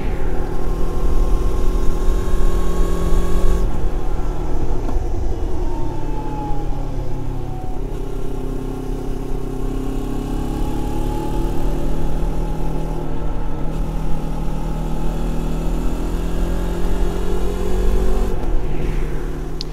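A Moto Morini X-Cape motorcycle engine drones loudly and continuously while riding, its pitch rising and falling with gear changes, along with rushing wind noise.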